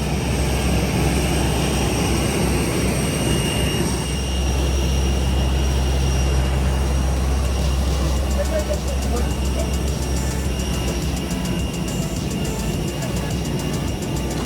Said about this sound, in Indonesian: Pesawat kita pesawat kecil, nggak terlalu besar.